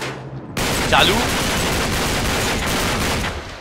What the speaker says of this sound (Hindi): गोलियां की आवाज आ रही है ना